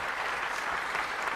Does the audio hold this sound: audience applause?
yes